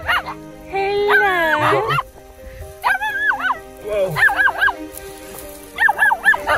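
Rescued puppies yipping, barking and whimpering in several high, wavering bursts with pauses between, close by, over a low steady background hum.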